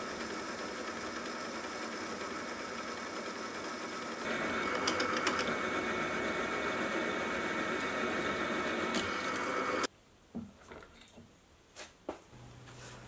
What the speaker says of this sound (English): whilst it's already set up in the mill, I'll get another hole made for the blade's locking pin.